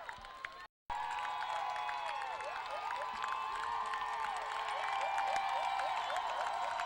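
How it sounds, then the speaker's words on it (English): A crowd at a 2003 youth 85 lb football championship final applauds and cheers both teams, steady clapping and shouts with children's voices from the stands, heard from some distance alongside a faint chirping whistle-like tone. "getting a rousing round of applause on both sides of the field as the Westlake fans stand and applaud as well"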